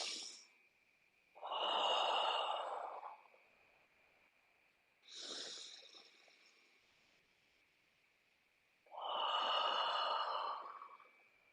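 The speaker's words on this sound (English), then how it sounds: "This inhale to exhale, this exhale to inhale." Slow, deep breaths during a guided calming exercise: three long, full inhales and exhales with soft, airy sighing texture, close and unhurried with pauses between them, no talking.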